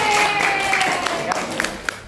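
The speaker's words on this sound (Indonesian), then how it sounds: "Oke, tepuk tangan buat." Audience applause during a student presentation in Makassar, a short burst of clapping that trails off, with voices mixed in the room.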